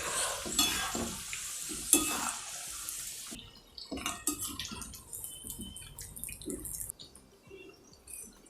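Raw banana pakoda frying in hot oil, a soft crackling sizzle with stirring and light scraping of a utensil in the pan, close and fairly quiet, with occasional clinks.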